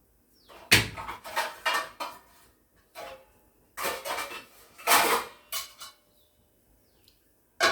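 A lid is set over a dosa pan cooking raw rice adai, giving several close, sharp metallic clatters and clanks in short bursts separated by quiet pauses.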